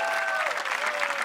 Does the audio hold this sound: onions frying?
no